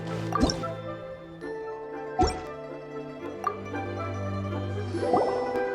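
Water drips in the Genshin Impact video game, a few distinct plops landing at uneven intervals over a steady soft musical backdrop, clear and close.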